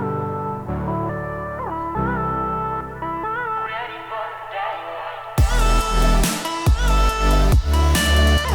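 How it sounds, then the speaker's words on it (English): Music EQ-filtered to a thin, band-limited intercom tone, with a steady melodic line before the full-range mix abruptly returns with heavy, punchy drums and bass for the final few seconds. "You get that nice intercom atmosphere"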